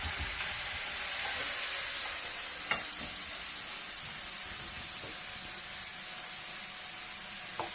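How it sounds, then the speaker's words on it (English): A hot pan of potatoes sizzles steadily with a bright hiss as Savoy wine deglazes it, with a few faint scrapes of stirring. "So just sizzle that up, just to release any of the bits of potato"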